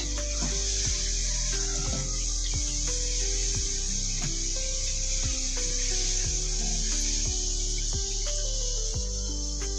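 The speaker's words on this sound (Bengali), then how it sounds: "আর একটু ভাজা হলে একে একে আমি সবগুলো সিঙ্গারাই এরকম করে ভেজে নেব" Chickpea samosas (singara) deep-fry in hot oil with a continuous close sizzle and fine crackle, while a low steady hum and periodic soft knocks run underneath.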